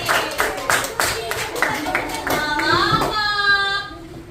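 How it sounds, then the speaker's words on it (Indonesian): A classroom of students claps together in a steady, rhythmic beat for a group, the claps giving way to voices chanting or singing at the end. "Oke, kita kasih tepuk tangan dulu untuk kucing sedih"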